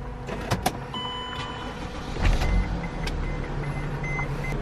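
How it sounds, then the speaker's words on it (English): A car engine starting inside a camper van, with a low rumble surging midway and then idling steadily, set among a few clicks and short electronic chimes. "I did just want to start the car and see if anything happens"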